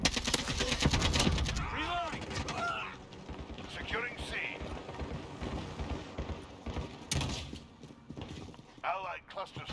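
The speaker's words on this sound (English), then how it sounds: "Taking shots." Rapid bursts of automatic gunfire from the video game Call of Duty: Modern Warfare (2019) with an AK-47, loud and dense early on, mixed with clanks, game sound effects and voices talking throughout.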